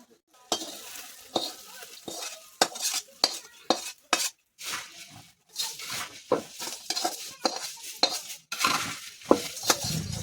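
Puffed rice for murmura chivda tossed and stirred in a pan, with repeated sharp scraping and clinking strokes of a spoon against metal and a light rustle of the dry grains, close by, with no talking.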